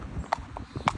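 Horse hooves clip-clop on a main road while the horse is hacked out in traffic, a few close, uneven hoofbeats with sharp knocks over faint background noise.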